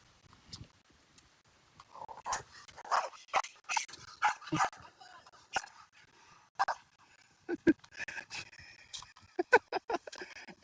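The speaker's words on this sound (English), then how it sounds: "I was not expecting the little shit to start barking." A small dog barks and yips in repeated sharp bursts, close and fairly loud, during an outdoor Pokémon Go raid session.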